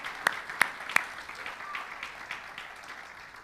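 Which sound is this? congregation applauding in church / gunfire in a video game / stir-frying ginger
congregation applauding in church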